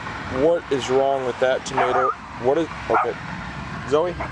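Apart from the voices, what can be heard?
dog Zoe barking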